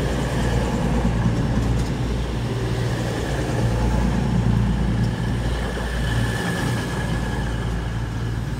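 A nine-coach train rumbles steadily and fairly loudly at Exeter St Davids station on an evening, a low continuous rolling drone with no voices.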